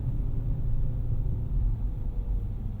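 A 2007 Dodge Charger SRT8 with its 6.1 engine and SRT exhaust gives a steady, deep low rumble from inside the car, an even cruising drone with no revving.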